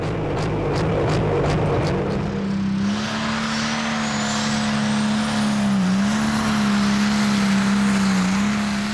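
A modified pulling tractor called the Blue Rabbit makes its run at the 2008 Danish tractor pulling championship in Aars. Its engine roars loud and sustained, the pitch climbing once the pull gets under way and holding steady with small dips.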